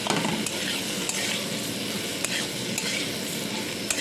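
Potatoes fry in hot oil with turmeric while being stirred in a pan, giving a steady close sizzle with faint scraping of the spoon throughout.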